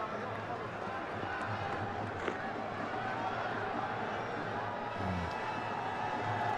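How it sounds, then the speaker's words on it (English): Dense stadium crowd noise at an India vs Pakistan cricket final, a steady roaring murmur of a near-full stadium that runs throughout, with a commentator talking over it. "God, there's a fair bit of crowd here."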